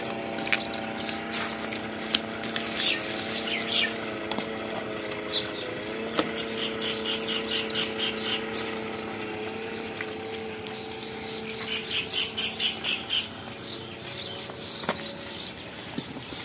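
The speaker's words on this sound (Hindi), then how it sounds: "मोटर चल गई है, अब पानी भी आ रहा है" An electric water pump motor runs in a village with a steady, close humming drone while water flows, and birds chirp intermittently in the background.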